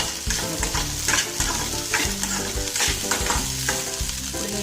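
Eggs stir-fried in a pan for semiya egg noodles: close, busy sizzling with repeated clattering scrapes of a spatula in an uneven rhythm.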